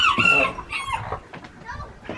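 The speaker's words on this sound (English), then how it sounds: "He's a rooster." A rooster crows close by, a loud strained call that trails off, followed by softer clucking.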